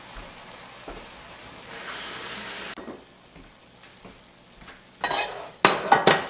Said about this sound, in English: add the rest of the slurry to our sauce with the black beans and watch that thicken up a little better